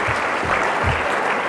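Applause from an audience at a 25th anniversary celebration event for the Clean Air Act, thanking two speakers: a full, sustained roar of many hands clapping at constant level, with no speech over it.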